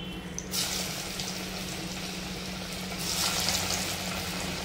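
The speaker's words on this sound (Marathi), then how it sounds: "तर आता आपण दुसरे पॅटीस टाकून घेऊया कढईमध्ये." Steady, loud sizzling of pea patties frying in hot oil in a wok, rising into a sharper hiss as more patties are added, with no voices.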